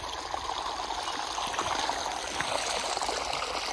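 Water rushes steadily in a river stream past a small dam, a continuous close hiss of flowing water with no voices.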